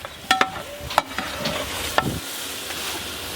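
Beef cooking with masala in a pot for biryani, a low simmering sizzle broken by several sharp spoon scrapes and clinks against the pot, fairly close and with no talking.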